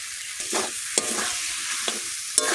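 Cumin and chili hitting hot oil in a pan, a steady loud sizzle broken by a few sharp stirring scrapes and clinks, with no one talking.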